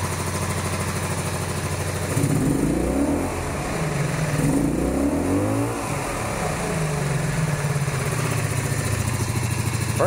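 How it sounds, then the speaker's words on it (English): A cafe racer motorcycle with a newly replaced throttle cable revs repeatedly while ridden around a parking lot, its engine note rising and falling in several throttle swells over a steady running drone, fairly close and with no talk. "I gave the bike a nice little ride around the parking lot here."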